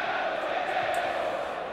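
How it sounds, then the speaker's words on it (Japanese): Stadium crowd roaring during a 1994-95 Serie A match between Napoli and Sampdoria, a steady, broad swell of massed voices from a large crowd, sustained and fairly loud throughout the short stretch. "大歓声に包まれました"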